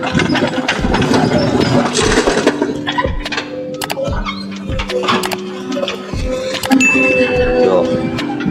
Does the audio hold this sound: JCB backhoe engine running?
yes